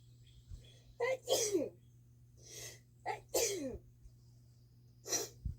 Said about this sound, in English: it makes me want to sneeze getting this close to it